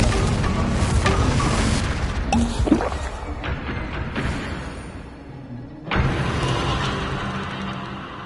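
A fiery Confringo spell blast in Hogwarts Legacy, a video game: a loud, rumbling explosion with crackling debris, then a second sharp boom near the end over continuing game ambience.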